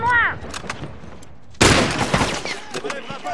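Gunfire in the Fortnite video game: a quiet stretch of game sounds breaks into a loud, sudden burst of shots, followed by further rapid, crackling reports and scattered echoes.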